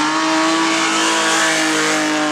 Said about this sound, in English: So this car is my seat time drift car.